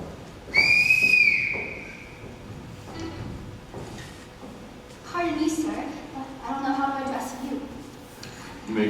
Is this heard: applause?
no